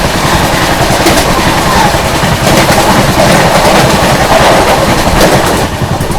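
A Rajdhani Express running at high speed while overtaking another train gives a loud, continuous rumble and rush with faint rhythmic clatter, heard close up and steady throughout.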